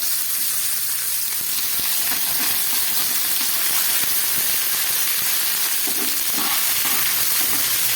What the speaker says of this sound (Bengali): পাঁচফোড়ন দিয়ে একটু ভেজে নিচ্ছি।